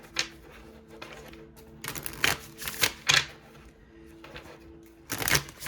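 Tarot cards shuffled by hand in a series of crisp riffling bursts separated by short pauses, close and fairly quiet over a faint steady hum, with no talking.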